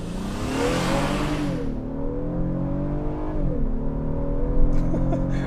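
A naturally aspirated 3.5 liter V6 in a 2026 Honda Passport Trailsport revs up in sport mode, its tone rising, dipping at a shift, then climbing again with a steady, close cabin drone.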